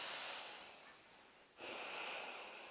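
Slow, deep yoga breathing with an exaggerated belly opening on each inhale during a crescent moon yoga session: a close, soft, airy breath that fades into a brief pause, then another steady breath begins, with no talking.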